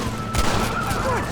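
A gunshot in the Western video game Red Dead Redemption, a short loud crack with a boom, heard over a music and ambience bed while a character speaks briefly.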